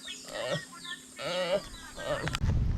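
Goat bleating nearby, several wavering harmonic calls in quick succession, moderately loud, ending in a burst of rustling noise.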